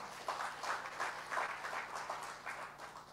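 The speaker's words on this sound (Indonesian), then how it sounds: "Kok nggak ada yang tepuk tangan bagi Tuhan?" Church congregation applauding, a steady diffuse wash of many hands clapping at moderate distance, with no one speaking over it.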